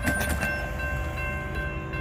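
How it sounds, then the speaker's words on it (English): A freight train passes the Broadway Street railroad crossing in Blue Island, Illinois, with a steady, loud rumble of rail cars nearby and a faint horn-like tone held above it, and no pause in the sound. "So it looks like we got another train."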